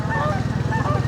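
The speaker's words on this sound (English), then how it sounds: "look at that, 2 geese up on the hill." Two geese honk up on a hill, a short burst of nasal honking heard at a moderate distance over a steady low rhythmic engine rumble.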